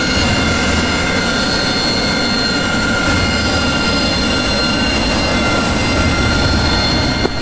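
Jet engine roaring at full power for takeoff in the DCS World flight simulator, a loud, steady broadband rush with whining high tones held unbroken throughout, no voices.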